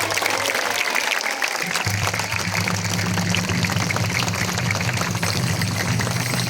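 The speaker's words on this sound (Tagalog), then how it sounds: "ay pumalakpak tayong lahat" A church congregation claps together at an Easter Sunday celebration in Green Park, Cainta, Rizal, with a steady, dense wash of applause filling the space alongside a low hum.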